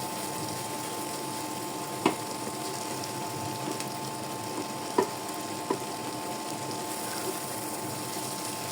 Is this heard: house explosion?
no